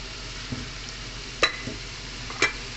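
Onions fry in a pan for a lentil dish, a quiet steady sizzle broken by a few sharp scrapes and clinks as a utensil stirs them.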